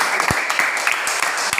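Scattered hand clapping from a classroom group, brisk and fairly close, a burst of applause lasting under two seconds.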